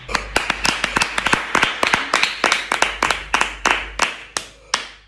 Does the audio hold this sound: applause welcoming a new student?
yes